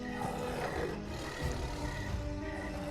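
A tiger roars in a Hindi horror podcast, as a sustained, dense rumbling roar that stays loud and continuous and is layered with background texture, with no speech.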